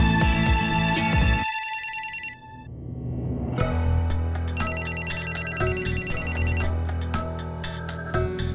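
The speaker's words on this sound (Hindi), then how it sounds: "किसका फोन आया है?" An electronic phone ringtone plays in repeated bursts with a rapid pulsing pattern, pausing briefly before resuming, loud and close.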